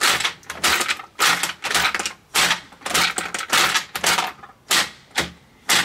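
AK-47 rounds drop through a MagPump magazine loader in about a dozen sharp, rhythmic metallic clacks, heard close and alone.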